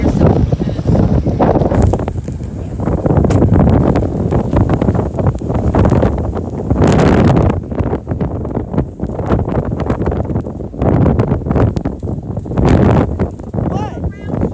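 Strong gusty wind buffets the microphone outdoors by the sea, producing loud, roaring bursts that swell and drop in waves, with people talking intermittently underneath.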